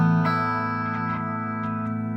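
An electric guitar chord rings through an MXR M300 reverb pedal set to Epic mode, sustaining with a wide, shimmering wash and a few soft picked notes blooming into a long, lush tail.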